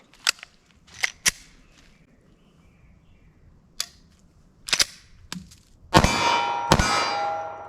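A 9mm pistol firing budget JHP ammunition during a test session, a few sharp metallic cracks spaced apart, then a louder shot with a ringing metallic tail and a final report.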